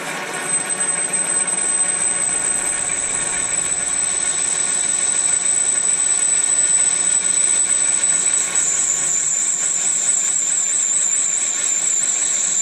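A magnetic base drill with an oiled carbide cutter lets out a loud, continuous high-pitched scream over a droning motor. The sound holds steady the whole time, and the pitch wavers slightly near the end.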